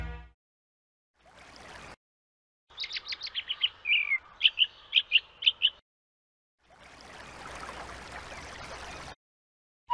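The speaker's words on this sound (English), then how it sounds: "The happy songbird." A cheerful songbird in the Pocahontas Animated Storybook PC game trills a quick series of bright chirps and tweets, rising into several sharp whistled notes. Soft rushing ambience comes before and after it.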